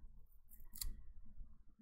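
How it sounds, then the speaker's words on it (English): A single crisp snip of small bird-shaped planner scissors, quiet and close, against a faint low background hum. "scissors that look like a little bird"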